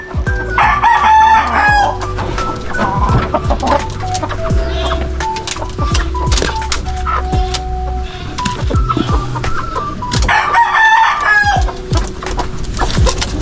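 A Boston Grey rooster crows loudly and close twice, near the start and again toward the end, while hens cluck and chatter throughout in a busy poultry yard.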